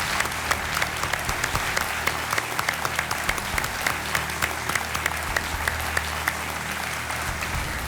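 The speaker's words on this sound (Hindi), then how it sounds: "तालियों के साथ आपका स्वागत।" A studio audience on a Hindi quiz show applauds to welcome Akshay Kumar as he steps in to help his friend, a steady, dense wash of clapping filling the whole stretch without any talk over it.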